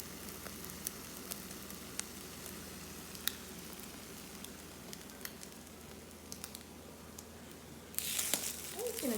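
An egg fries in a pan with a soft, continuous sizzle and scattered small pops and crackles, quiet and close, swelling louder near the end.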